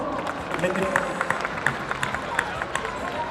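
An audience at a kids' cosplay parade on a large convention stage claps loosely, with scattered sharper claps standing out over a murmur of crowd noise and voices.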